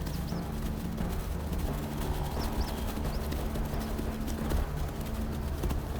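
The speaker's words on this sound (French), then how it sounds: "le bison d'Europe aime galoper" A group of European bison gallops through the forest, a continuous dense drumming of hooves with no gaps, loud and close, with faint bird calls above.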